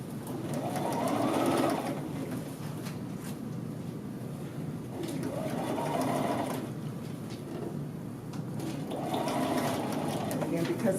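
A sewing machine stitches a collar band facing onto a men's shirt, running in three steady whirring bursts separated by short pauses, close and fairly loud.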